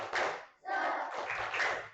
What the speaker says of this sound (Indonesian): Coba sebelumnya kita tepuk semangat dulu.